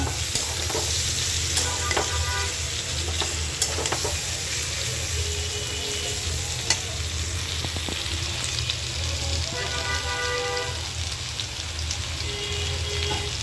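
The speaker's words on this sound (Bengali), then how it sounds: "আমার সবজিগুলো ভাজা হয়ে গেছে আমি এখন সবজিগুলো নামাই নেব" Continuous sizzling in a pan with occasional stirring scrapes and clinks, close and steady throughout, with no speech.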